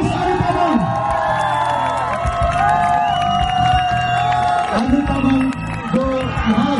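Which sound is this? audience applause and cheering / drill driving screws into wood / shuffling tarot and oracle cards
audience applause and cheering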